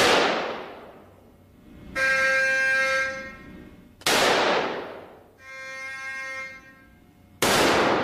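A cannon on a rigid mount fires three special rounds at armored material, each a loud, sharp blast with a long fading tail. Between the shots a steady, tonal horn-like signal sounds twice.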